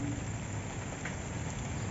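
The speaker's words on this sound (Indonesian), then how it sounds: "Aduh, hujan." Heavy rain pouring down outdoors, a dense continuous hiss of drops at a steady even level, near and loud, with no voices over it.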